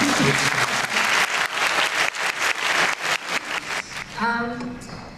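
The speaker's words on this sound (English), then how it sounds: "Please give everybody a round of applause" A large audience applauds for a grieving mother, Tammy Cutler, at a memorial gathering: steady, dense clapping that fills the room, then begins to thin out near the end as a voice starts speaking over it.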